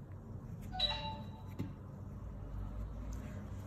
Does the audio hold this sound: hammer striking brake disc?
no